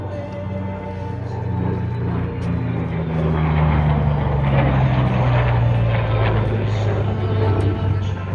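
A P-51 and an F-16 pass overhead at an air show, their engine roar swelling from a distant rumble to a loud, droning pass with a slowly falling pitch.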